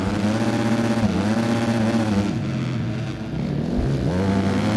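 A motorcycle engine revs continuously in the Supercross 3 racing video game, a loud, steady droning whine that rises and falls in pitch, with a brief dip before it climbs again and no voices.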